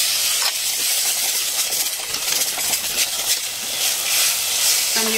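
Tomatoes hitting a hot pan of cooked spices set off a loud, steady sizzle and hiss at close range that holds throughout, with no talk.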